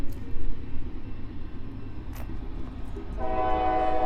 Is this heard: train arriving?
yes